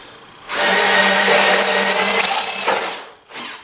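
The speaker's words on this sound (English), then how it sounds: "And then drill them with the drill press." A drill press whirs steadily for about two and a half seconds, boring through wooden dowels, then winds down, followed by a brief second burst.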